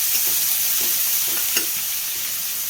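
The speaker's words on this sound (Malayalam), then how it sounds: "എനിക്ക് കുറച്ച് ഒരു സവാള അരിഞ്ഞതും കുറച്ച് കറിവേപ്പിലും രണ്ട് മൂന്ന് ഉള്ളി അരിഞ്ഞത് കൊടുക്കാം നന്നായി ഇറക്കി കൊടുക്കാം" Sliced onions, shallots and curry leaves sizzle steadily in hot oil for a jackfruit stir-fry, a continuous close hiss with a few faint stirring scrapes and no voices.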